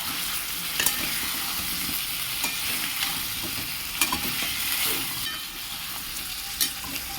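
Spice paste sizzling and frying in a pan, a dense steady hiss broken by periodic scrapes and taps of a stirring spoon, close and fairly loud throughout.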